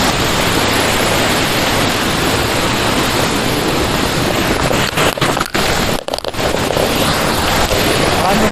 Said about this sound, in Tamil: இதான் அருவி.